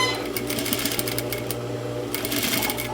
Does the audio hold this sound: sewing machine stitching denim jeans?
yes